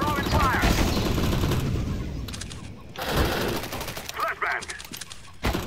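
Dense gunfire in a CS:GO match, with rapid automatic bursts and single shots layered close and loud, easing briefly midway before further sharp cracks return, with faint voices underneath.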